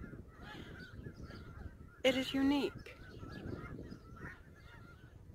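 Birds at the Sonny Bono Salton Sea wildlife refuge give a short, loud burst of honking calls partway through, with quieter calling and a person talking around it.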